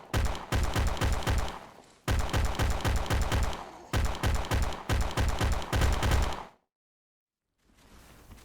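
Rapid automatic gunfire from a fast-firing primary weapon in the zombie game Those Who Remain, loud close bursts of quick shots in three long strings with brief pauses, then a sudden cut to silence and faint noise.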